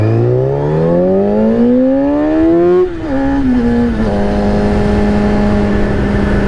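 A Kawasaki ZX6RR sport motorcycle engine revs loud and close, pitch climbing steadily, dipping after a gear change, then holding a steady high drone.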